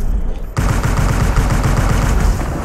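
Loud, rapid automatic gunfire from the Anthem shooter game erupts after a short lull and keeps rattling continuously in close, dense bursts that fill the scene.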